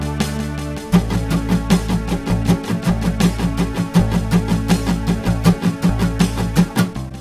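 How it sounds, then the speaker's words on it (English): Guitar strings are strummed in a quick down-and-up pattern, producing a steady, rhythmic run of percussive strokes over sustained chord tones, loud and close with no voice. "copy this Coca-Cola pattern using a downstroke, an upstroke, and a downstroke and an upstroke"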